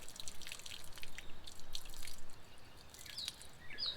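Water drips and trickles from the open low-point lines of a Coleman Lantern 17B camper as the plumbing is flushed during de-winterizing, a faint steady patter with a few brighter drops standing out near the end.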